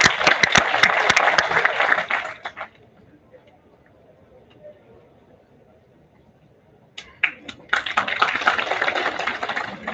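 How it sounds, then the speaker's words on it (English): Audience applause at a ceremony, dense clapping for about two seconds that fades out, a quiet pause, then another burst of clapping returning and continuing to the end. "Let's have a huge round of applause for her."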